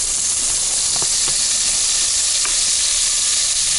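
Lard sizzling in a very hot cauldron with a little oil at an outdoor fishing breakfast, a loud, steady hiss and crackle with a few sharp pops.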